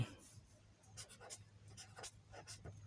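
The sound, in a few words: pen writing on paper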